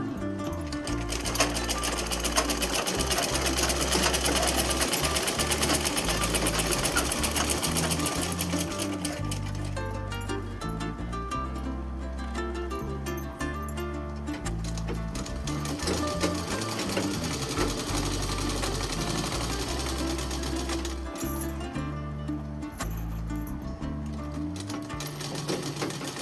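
A sewing machine stitches a folded coat suit seam in long continuous bursts with brief pauses, its rapid mechanical chatter loud and close.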